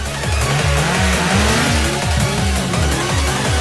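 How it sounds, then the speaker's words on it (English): Car engines rev loudly and repeatedly up close, with rising and falling pitch sweeps, as two cars face off over the same parking spot, one of them a Challenger, and no one speaks. "Start your engines."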